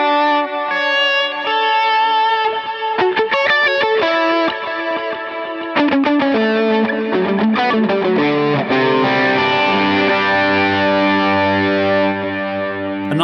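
Electric guitar through an Axe-FX III on a Brilliant amp model with overdrive and Aurora multi-delay, playing distorted notes and chords that trail into a wash of shimmering, swelling repeats, loud and close with no talk.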